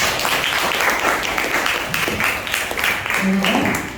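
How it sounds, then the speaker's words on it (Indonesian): A class group claps in a steady burst of applause, with voices chattering over it. "tepuk tangan untuk kita semua"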